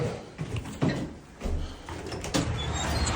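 The main door of a building opening, with a few thumps and a sliding, rattling movement in a small entry space, fairly close and moderately loud, no voices.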